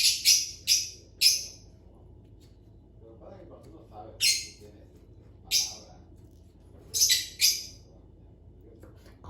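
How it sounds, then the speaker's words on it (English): Short bright bird chirps come in clusters, several quick calls then pauses, fairly close over a low steady background hum. "I don't know if y'all can still hear the birds"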